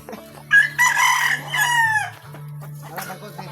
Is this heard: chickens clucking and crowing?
yes